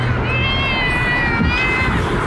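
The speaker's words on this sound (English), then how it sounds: "It's actually just a black cat." A black cat gives one drawn-out, wavering meow, close and fairly loud, over a low background rumble.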